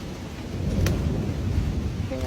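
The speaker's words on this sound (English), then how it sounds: "here I go in a thunderstorm" A thunderstorm outdoors at night in Appalachia, with a steady wash of heavy rain and a low rumble of thunder, one sharp crack standing out briefly near the middle, loud and enveloping.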